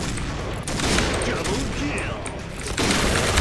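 Rapid gunfire from the shooting game Point Blank: loud, dense bursts of shots in quick succession, with a brief break before firing resumes, while a voice talks over it.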